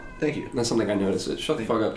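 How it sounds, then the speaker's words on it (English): A house cat meows briefly in the background of an indoor podcast recording, nearly buried under close, ongoing conversation. "Oh, that was my cat, yo."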